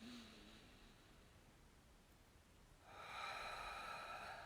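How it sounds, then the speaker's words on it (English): Soft, airy belly breathing during meditation drifts in the quiet, then a louder, steadier rush of breath swells up near the end, close and without any talking. "breathing in, pushing out the stomach, breathing out"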